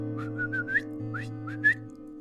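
A person whistles after a neighbour's dog outdoors: several short rising whistle notes in quick pairs, fairly clear and close, over a steady low background hum.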